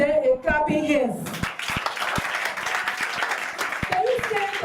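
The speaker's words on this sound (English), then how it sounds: "with standing ovation, please give them a clapping hands" An audience gives a standing ovation for the teaching staff at a Liberia returnee network third-anniversary event. Steady applause fills the middle of the clip, with a voice speaking before and after it.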